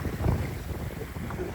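Strong wind buffeting a fishing boat on Lake Lavon, Texas, a steady roaring gusty rush with microphone wind noise and faint lapping water, no voices.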